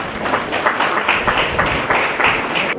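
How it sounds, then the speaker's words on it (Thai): Crowd applause with dense, steady hand clapping from an audience at a Thai regional social welfare charity event, continuous and fairly loud throughout with a little voice mixed in. "อ้าวรับอ้าวปรบมือให้หน่อย"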